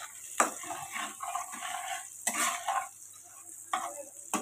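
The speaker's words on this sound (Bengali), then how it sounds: "পেঁয়াজটাকে আরেকটু ভাজা ভাজা করবো" Chopped onions frying in white cooking oil for an egg, soya chunk and potato curry, with a spatula scraping and stirring the pan in repeated bursts over a steady soft sizzle, close up and with no talking.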